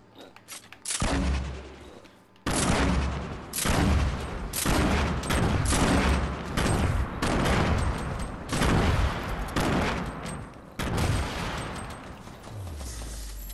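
Rapid bursts of automatic gunfire from a Fortnite Battle Royale match, loud and close, firing in repeated volleys with short gaps between them, a low game soundtrack underneath and no talk.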